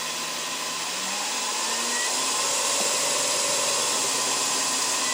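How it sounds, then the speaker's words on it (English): A wood lathe running a dry, rough-turned bowl blank holds a steady motor whine and airy whoosh that rises slightly in pitch as it comes up to speed, continuous and fairly loud with no talking. "Start up the lathe."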